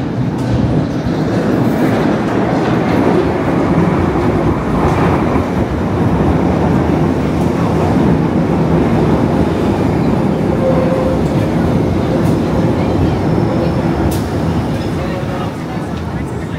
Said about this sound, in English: Sounds like the train is coming soon.